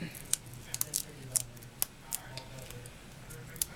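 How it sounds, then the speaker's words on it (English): Scissors snip a small strip from a piece of card for a handmade sympathy card, making a string of crisp, close clicks at irregular intervals over a soft background hum. "So I'm just going to cut a small strip off of the piece I cut."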